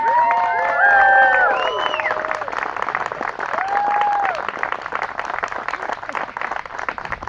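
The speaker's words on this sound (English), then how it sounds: "Now y'all can clap." Wedding guests clap and cheer after the kiss, a loud burst of applause with whoops and whistles at first, fading to scattered clapping.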